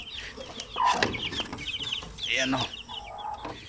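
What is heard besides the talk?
chicks and hens clucking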